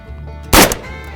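A single sharp crack of an AK rifle firing, loud and close, with a short echoing tail over a low background hum.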